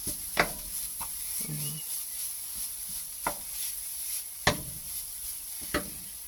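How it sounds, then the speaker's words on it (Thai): Khanom tom filling is stir-fried in a pan with a faint steady sizzle, punctuated every second or so by the scrape and knock of the spatula against the pan, with no voices. "คั่วไป จนเขาจับก้อนกัน เราต้องคั่วไปเรื่อยๆ แบบนี้จ้ะ"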